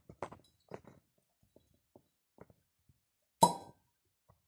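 A rubber wine cork pulled free with a waiter's friend corkscrew gives one sharp pop near the end, after several soft handling clicks and taps, close up and with no talk.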